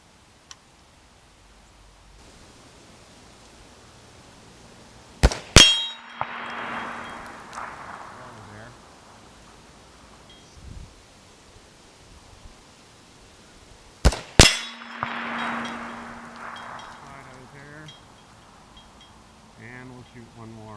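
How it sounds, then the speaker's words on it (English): Two sharp rifle shots from a 6.5 Grendel firing Nosler 130gr RDF loads, spaced about nine seconds apart, each a loud crack followed by a faint distant ring and fading rumble outdoors, mostly quiet between. "And we'll shoot one more."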